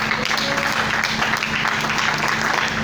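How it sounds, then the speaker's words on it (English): A church congregation claps for Jesus during a sermon, a steady, dense wash of applause that runs unbroken and fairly loud, with a faint low hum beneath it. "clap for Jesus"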